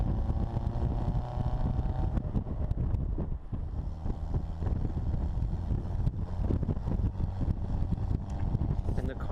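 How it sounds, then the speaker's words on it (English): A 1959 Austin-Healey Bugeye Sprite with a five-speed roars steadily with a throaty exhaust while driving, mixed with wind noise and faint talk. "Car has a beautiful exhaust note."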